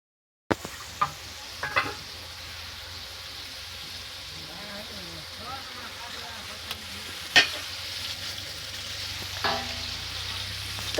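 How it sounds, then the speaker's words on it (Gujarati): Boiled potato curry being tempered in hot oil, with a continuous close sizzle and frying hiss, scraping stirs and a few sharp clanks of a utensil against the pan. "જો બટેકાનું મસ્ત વઘારી લીધું છે."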